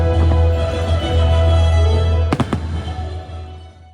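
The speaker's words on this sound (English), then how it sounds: "we ended up just enjoying the fireworks" Fireworks burst at Epcot in a short cluster of sharp, loud pops over a steady crowd and park rumble.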